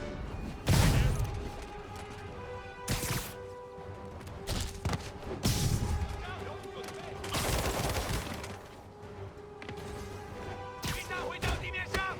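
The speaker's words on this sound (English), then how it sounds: "I got like 3 or 4 snipers on me too, trying to shoot me" Gunfire from snipers in the video game Marvel's Spider-Man Remastered arrives as scattered loud bursts and cracks amid combat thuds and game noise, spaced irregularly across the stretch.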